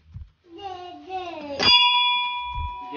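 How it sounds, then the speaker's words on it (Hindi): A Hanuman temple bell is struck once with a sharp metallic clang that rings on and fades, after children's voices and before more speech. "बजा दो घंटी।"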